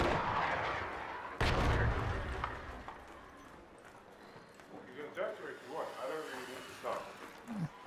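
Gunfire in a Godot-made indie video game: one sharp loud shot burst early, followed by quieter scattered impacts and game sounds, with voices talking throughout.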